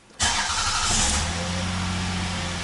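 A car engine cranks and catches abruptly, then settles into a steady, fairly high idle close by.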